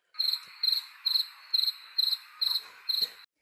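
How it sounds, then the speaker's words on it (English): Crickets chirp in a steady, even rhythm, seven bright trilling pulses evenly spaced, close and clear with nothing else behind them. "Crickets."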